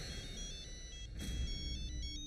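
A phone ringtone plays for an incoming call, a repeating electronic melody sounding steadily at moderate volume indoors over a low background hum, with no talking.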